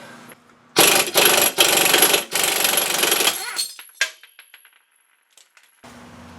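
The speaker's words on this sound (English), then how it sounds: "next thing I want to do is separate this ball joint" An Audi Q5 lower control arm ball joint is forced apart with a separator tool, giving a loud burst of harsh metallic hammering for about three seconds, then scattered clinks and rattles fading into silence.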